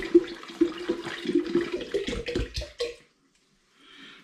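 Spring water pours into a home brewing vessel for Aperol, a gurgling, splashing stream for about three seconds that then stops abruptly, leaving near silence.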